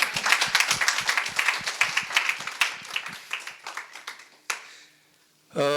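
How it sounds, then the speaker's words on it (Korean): A lecture audience claps in quick, uneven rhythm, loud and close at first, then thins to scattered claps that stop before a brief final sound. "우리 박수 한번 쳐드립시다."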